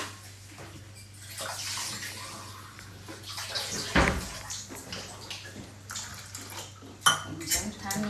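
Water being poured and stirred into appam batter in a kitchen, splashing and sloshing in bursts with clinks of a utensil against a bowl.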